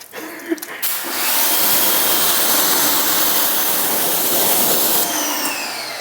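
An Active 2.0 pressure washer roars to life after a few clicks and runs continuously with a loud, steady hissing spray close by, easing slightly near the end.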